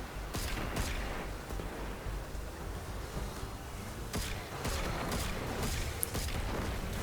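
Explosive-round gunfire in Destiny aimed at stalkers, scattered sharp shots and bursts over a continuous dense background roar, steady and fairly loud throughout.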